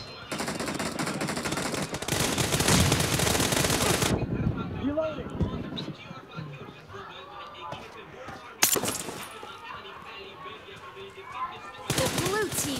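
Automatic gunfire from the mobile battle game PUBG Mobile rattles in loud, dense bursts for several seconds. Later comes a single sharp shot, then another short burst.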